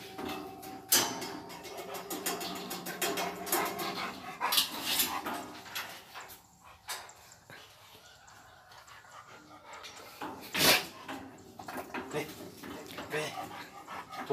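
Cane Corso (Italian mastiff) dogs give short barks and whimpers with some breathy panting, close by and fairly faint. Someone speaks at intervals in between.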